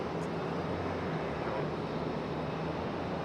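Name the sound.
JetBlue jet airliner taxiing at Raleigh-Durham airport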